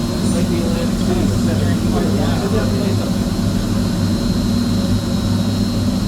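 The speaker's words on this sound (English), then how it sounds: "Oh, this is the other blower." Blower motor of a theatre pipe organ running, a loud, steady, unbroken mechanical roar with a low hum, heard close and alone.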